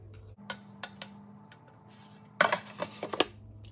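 Oiled air fryer tray being loaded with broccoli balls, giving a handful of light clinks and taps of metal and dishware, with a denser cluster of clattering knocks near the end, close and fairly quiet.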